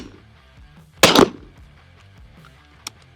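A double-barrel 12 gauge shotgun from Red Dead Redemption 2 fires one loud, close blast with a short ringing tail, then a small sharp click a moment later, with no talking.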